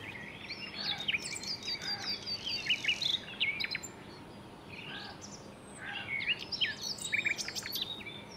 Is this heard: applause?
no